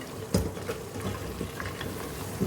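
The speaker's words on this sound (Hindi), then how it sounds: "अभी थोड़ी भुनाई हो जाए इसकी" Potato and wadi curry frying with spices in a pan, a steady close sizzle broken by the scrape and knock of a stirring spoon, with no talking.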